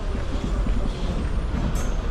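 City buses in India idling with engines rumbling, low and steady, and a short sharp hiss of air brake release bursting in near the end over busy street noise.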